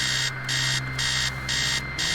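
In the video game Stories Untold, an alarm goes off as a series of harsh, evenly spaced electronic rings, about four bursts in two seconds with brief silences between them, close and loud over a low background hum.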